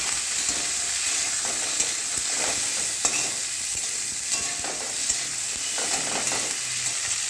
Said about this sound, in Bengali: এবার আমি আলুটা দিয়ে ভাজছি